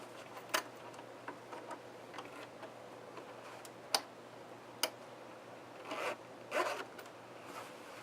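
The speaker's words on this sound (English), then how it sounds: "zip my zipper back up" Faint, quiet zipper pulls and small clicks in a still room, a few short rasping strokes scattered among soft ticking sounds.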